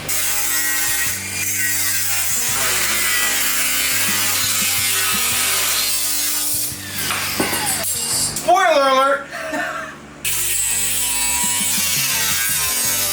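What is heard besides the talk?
cutting metal on a truck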